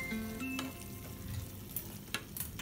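Garlic paste sautés in a pan, with a soft continuous sizzle and a couple of quiet stirring scrapes over a brief stretch, with no one speaking.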